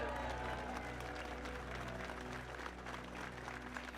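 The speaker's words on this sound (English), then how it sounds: "So give a big round of applause, ladies and gentlemen." Crowd applause rises in an outdoor market square at the unveiling of the John Joe O'Reilly statue, a quiet, steady wash of many hands with a low background hum.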